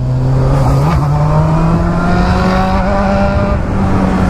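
Honda Hornet motorcycle engine revving up close, a loud sustained roar whose pitch climbs steadily, filling the whole stretch without any voices.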